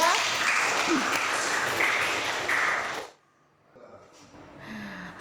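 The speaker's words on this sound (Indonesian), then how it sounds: "Tepuk tangan dulu untuk mereka bertiga." A classroom of students claps for three classmates, a dense burst of applause lasting about three seconds before cutting off abruptly, leaving faint room noise.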